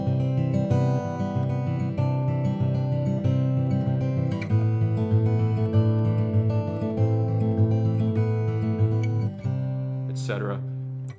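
Acoustic guitar fingerpicks a pattern, a steady rolling arpeggio of bright plucked notes with sustained bass tones, close and clear, ending with a brief squeak.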